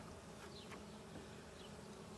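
Honeybees from a six-week-old package colony buzz steadily around an open hive in the evening, a continuous quiet drone with individual bees passing close now and then.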